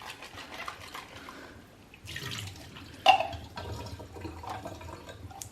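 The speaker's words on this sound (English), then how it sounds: "you can't really do thorough washing with this thing like with the other Patterson tank" Tap water runs into and sloshes around a small developing tank while 16mm film is washed, faint, intermittent splashing with a sharp clink near the middle.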